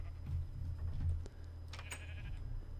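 Sheep bleating in the video game Minecraft, a few loud wavering baas close together near the start, followed by quieter game sounds.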